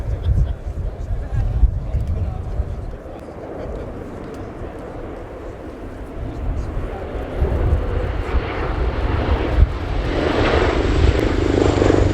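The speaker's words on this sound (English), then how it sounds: "Pilots would regularly tilt the Osprey's nacelles to 80 degrees for jump takeoffs" A USAF CV-22B Osprey tiltrotor flying a display at RIAT air show, a loud rumbling rotor and engine drone that rises and falls as it passes, heard under continuous commentary from a speaker.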